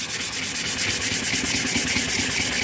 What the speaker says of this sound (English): I'm just using a real light sand just so I can get the wood kind of back to where it's supposed to be